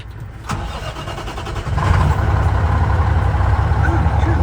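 A spider machine's engine cranks and catches, then settles into a loud, rumbling idle close by, with a brief voice near the start.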